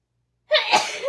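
One abrupt, forceful sneeze after a moment of silence, close by, with a breathy burst and a short vocal trailing sound.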